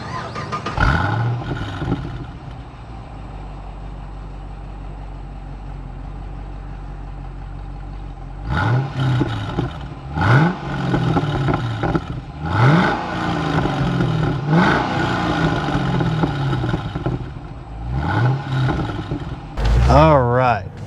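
A Chevy SS sedan's 6.2-liter LS3 V8 idles with a low burble through its quad-tip exhaust, then barks through a series of sharp, close revs in quick succession.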